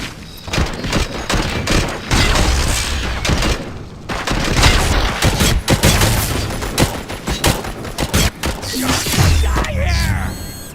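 Dense, loud gunfire from the shooter game RoboCop: Rogue City crackles almost continuously, with rapid bursts and heavy booms layered over each other and only brief gaps.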